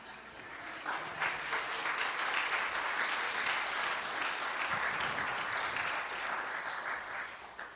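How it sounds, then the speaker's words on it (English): An audience at an international finance summit applauds after a talk, a dense, even wash of many hands clapping at a distance, sustained for several seconds at moderate level before tapering. "This is where you clap."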